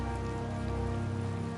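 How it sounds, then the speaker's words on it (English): Steady rain falls in the video game Tales of Vesperia, a dense continuous hiss and patter of drops on surfaces, even and unbroken throughout, with no speech. "It's raining after all."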